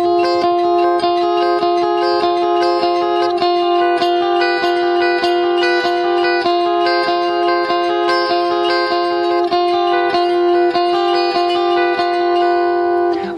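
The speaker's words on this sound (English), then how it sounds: "Okay, the interlude sounds like this." An electric guitar plays an interlude, a steady run of sustained chords and ringing notes that is loud, close and continuous with no talking.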